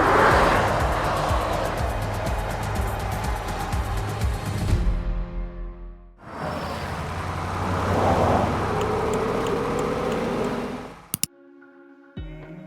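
An Audi S6 e-tron Avant electric wagon drives along with a steady whir of motor and road noise, broken by two short gaps where the sound drops away. A faint synthetic tone rides over the rumble.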